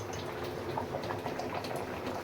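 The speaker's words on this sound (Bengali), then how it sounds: "আপাতত খিচুড়ি রান্না চলছে, দেখো টকবক করে ফুটছে" Khichuri bubbling steadily as it boils in a cooking pot, a continuous soft burbling with small irregular pops, moderately quiet and heard on its own.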